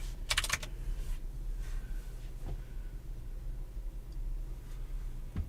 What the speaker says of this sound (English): I don't understand why I cannot type on this clacky keyboard